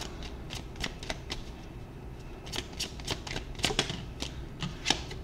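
Secret Garden oracle cards are shuffled close by in a run of crisp riffling flicks and soft slaps. The taps come irregularly for about five seconds and grow busier toward the end.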